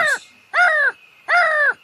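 A crow caws three times in an evenly spaced, loud, close sequence with brief gaps of quiet between the harsh calls.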